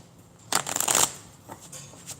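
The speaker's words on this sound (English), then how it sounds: "Let's get another flip and another good shuffle." A quick riffle of tarot cards being shuffled, a crisp burst of flapping lasting about half a second, followed by a few soft card taps.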